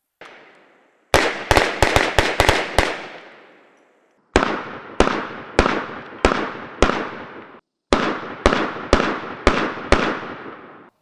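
A CZ P-10C ported pistol fired in three strings of rapid shots, sharp loud cracks spaced evenly with brief pauses between strings, close and without speech.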